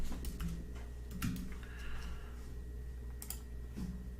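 Soft, scattered keystrokes tap on a computer keyboard in a quiet room, faint and irregular over a low steady hum.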